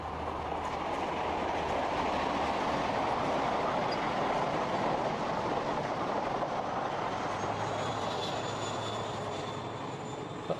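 Diesel train running along the seawall at Dawlish, a steady dense rumble and wheel roar sustained throughout at fairly close range, alone with no talk.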